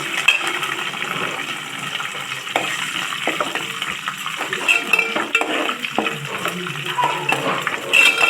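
A utensil stirs curry leaves into Andhra-style upma in a pan, making soft scraping and light clinks over a faint hiss, with no talking.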